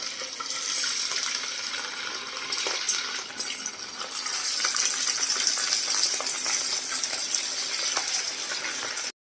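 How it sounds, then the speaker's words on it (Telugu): Street-style chicken pakoda frying in hot oil over a low to medium flame, a steady dense sizzle and bubbling crackle throughout, close and fairly loud, with no one talking. "సో హీట్ అయిపోయింది. సో నేను ఇలా అయితే ఫ్రై చేసేసుకుంటాను."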